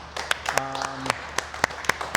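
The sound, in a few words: staff clapping to congratulate the team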